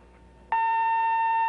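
Quiz show buzzer on a 1981 television quiz program sounds once after a brief hush, a sudden loud sustained electronic tone holding steady to the end.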